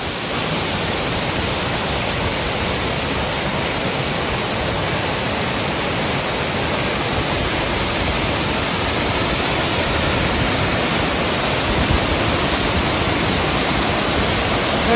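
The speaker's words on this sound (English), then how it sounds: "Quite a waterfall." A waterfall on a hiking trail between Gunsight Lake and Lake McDonald Lodge roars close by as a loud, steady, unbroken rush of water with no voices.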